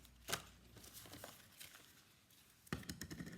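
Scissors cut a piece of ribbon with a few faint, crisp snips and rustles, including a sharper cut near the end, in an otherwise quiet room.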